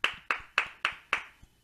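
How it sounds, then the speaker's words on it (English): A small group claps for a performer at a family music night: five crisp, evenly spaced claps in quick succession, then a couple of fainter trailing ones. "One more round of applause for Liz."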